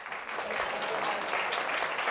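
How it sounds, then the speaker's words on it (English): Brief burst of audience applause in a hall during a speech at the National Press Club, an even wash of clapping from a room of listeners, fairly soft and steady. "You can clap."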